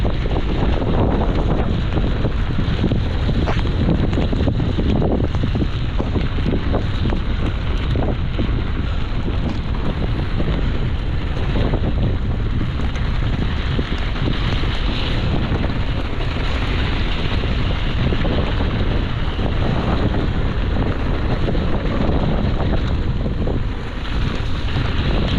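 Headwind roars into the microphone on an e-MTB ride through the South Lakes in December, a loud, continuous buffeting rumble with no talk.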